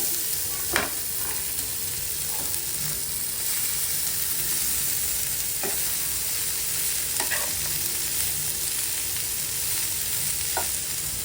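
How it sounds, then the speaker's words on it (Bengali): Cabbage frying in oil in a wok, a steady broadband sizzle running the whole time with a few brief stirring clatters scattered throughout, close and even in level, no talk. "কড়াইয়ের মধ্যে যা তেল রয়েছে আমি বাঁধাকপিটাকে ভেজে নেব।"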